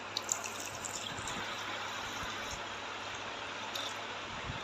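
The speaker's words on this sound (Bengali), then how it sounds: "এবার পরিমাণ মতো জল দিয়ে দিব।" Water poured steadily into a mango juice mixture, a continuous close splashing gush throughout with no talking.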